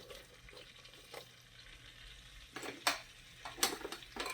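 Flour tipped into melted butter in a pan gives a soft, steady sizzle, with a few sharper scrapes and clinks of a utensil against the pan toward the end.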